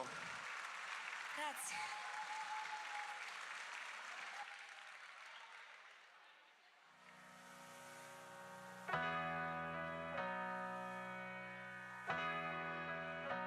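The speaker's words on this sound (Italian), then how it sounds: "Applauso!" An audience at an outdoor live music evening in Ollolai applauds steadily for several seconds, a crowd-wide patter at moderate distance, before a band starts playing with sustained chords; a voice speaks briefly over the clapping.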